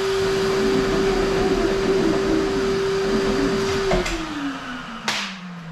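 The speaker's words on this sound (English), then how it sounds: "Vacuum up that dust in there." A Giraffe Tools wall-mounted retractable vacuum motor drones steadily and loudly, then its pitch drops as it winds down, with a couple of sharp clicks near the end.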